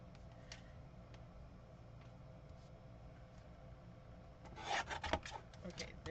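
A quarter inch is trimmed off a card with a quiet rubbing, scraping slide and then a brief burst of crisp cutting and paper handling near the end, close and soft.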